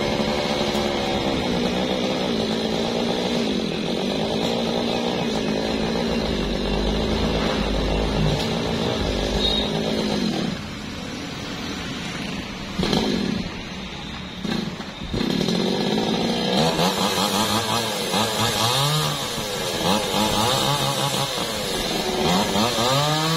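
A chainsaw cuts the young branches of a very large, century-old tree, its engine running loud and continuous throughout with shifting pitch as it bites and revs, and no pauses.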